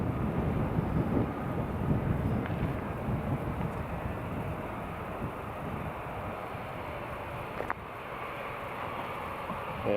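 A British Airways jet taking off at Newcastle International Airport, a broad rumbling roar from a distance, sustained throughout with some wind buffeting on the microphone.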